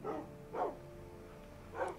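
Dogs bark in the Minecraft Hexxit modpack, three short barks spaced out over a faint steady background hum, with no talk.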